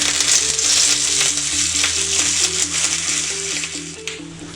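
Curry leaves and fenugreek seeds tossed into hot oil for a Kerala ripe-mango pulissery crackle in a loud, steady sizzle that fades slightly, with background music tones running underneath.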